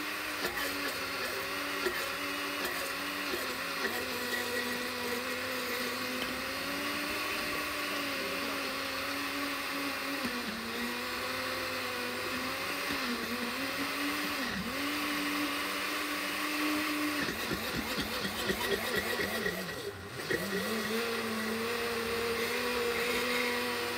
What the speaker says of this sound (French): On ne peut pas parler pendant que ça mixe parce que ça fait trop de bruit.